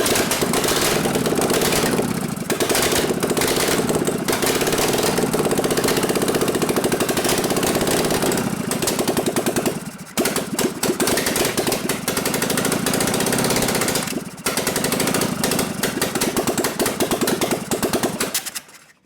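A Harley-Davidson 93ci panhead stroker motor in a 1989 Softail runs rough on two cylinders, a loud, steady, close engine roar with uneven beating that briefly dips twice before cutting out at the end.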